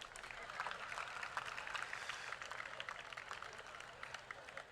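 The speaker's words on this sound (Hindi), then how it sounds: "अपने लिए तो ताली बजा लो।" Students at the NIFT Hyderabad convocation applaud, a dense wash of distant crowd clapping that is steady and moderately faint, lasting several seconds with a voice faintly audible.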